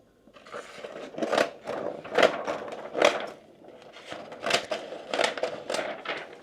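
DTF transfer film being cut by hand, a series of sharp snipping and crinkling strokes in a loose rhythm, close and alone.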